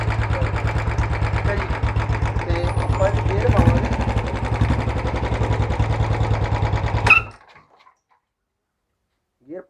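A Royal Enfield Bullet motorcycle engine idles steadily after starting, a loud close thumping beat for about seven seconds before it cuts off abruptly into near silence.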